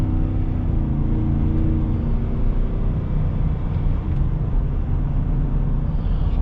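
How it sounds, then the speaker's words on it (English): A 2021 Ford F-150 XLT V8 pickup's engine running steadily loud and close, a continuous low rumble without a clear rise in revs. "There goes that V8, guys,"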